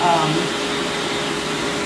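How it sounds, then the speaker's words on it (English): A force dryer blows on a puppy during her first blow dry, giving a steady loud whooshing airflow with a motor whine, running continuously and close. "I will link the dryer that I have, the force dryer."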